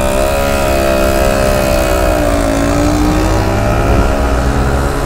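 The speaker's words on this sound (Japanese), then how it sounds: "周りのエンジン音でほとんど読み上げ聞こえないです。" Constant engine drone from surrounding traffic on Nagasaki city streets, heard from a bicycle, with a humming motor tone that gradually shifts in pitch, loud and close, no talking.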